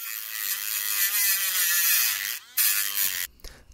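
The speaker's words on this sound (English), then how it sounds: "It was time to bust out the death wheel to cut a slot in the head so I can fit a normal screwdriver." A high-speed cutting wheel grinds a slot into a screw head on a Suzuki GS750, giving a loud, close, harsh whine with a shifting pitch. It drops out briefly, resumes, then stops abruptly.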